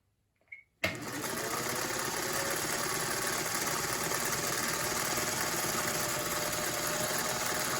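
Sewing machine starting up and sewing a short, very fine stitch, a fast, even mechanical whir that runs steadily after a brief click.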